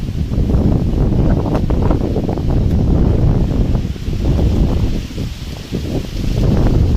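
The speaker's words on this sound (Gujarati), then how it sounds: "બહુ જ પવન છે" Strong, steady wind in a cotton field during a storm buffets the microphone with a constant roar and rustling, easing briefly before gusting again.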